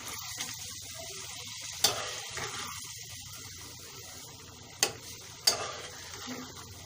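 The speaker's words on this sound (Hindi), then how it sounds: "और इसको मिक्स कर लेंगे।" Hyderabadi chicken masala is mixed in a pan over a low sizzle, with a few distinct knocks of the spoon against the pan spread across the stir.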